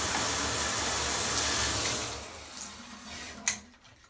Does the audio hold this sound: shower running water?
yes